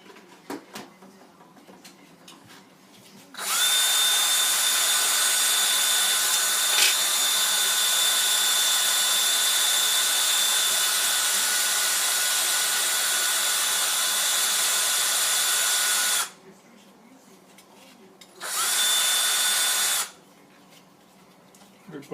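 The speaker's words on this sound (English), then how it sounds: "So let me sand those off." A power sander works on a plastic Stormtrooper helmet ear part, a loud steady whine running for about thirteen seconds, then a short second burst after a pause, with quiet room noise between.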